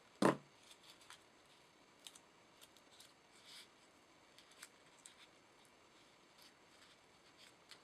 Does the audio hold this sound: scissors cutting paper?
yes